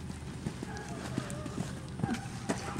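A ridden horse's hooves clip-clop in a steady rhythm during a riding lesson, light thuds under a riding instructor's continual coaching voice.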